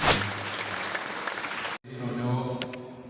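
A wedding congregation at an ADPR church in Nyamasheke claps loudly through a vow ceremony, a dense broadband applause that cuts off abruptly and then resumes with a voice speaking over it.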